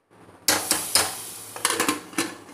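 A fried onion vadagam tempering is tipped into a pot of drumstick sambar, giving a sudden sizzling splash followed by several sharp metallic clinks and spatters of ladle against pan.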